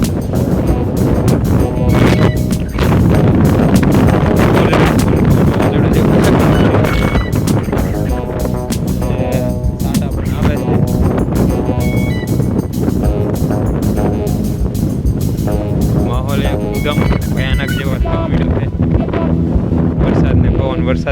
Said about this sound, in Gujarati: પવન એકદમ ફૂલ છે